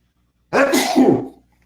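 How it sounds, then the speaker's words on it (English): A single loud, close sneeze bursts out abruptly and trails off over about a second, with no other sound around it. "Oh, I got to sneeze."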